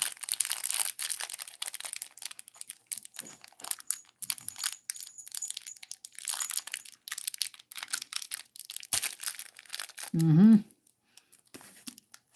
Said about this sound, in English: She hears me crinkling the paper.